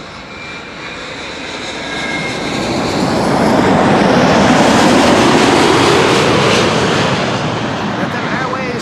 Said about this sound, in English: Letem Airways flight 8078 arriving from Sao Paulo, 7879 Dreamliner.